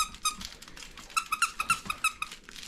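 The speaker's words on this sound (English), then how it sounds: "You got a squeaker?" A dog toy squeaker squeezed repeatedly, giving a rapid run of sharp, high-pitched squeaks in uneven bursts, close and fairly loud against a quiet room.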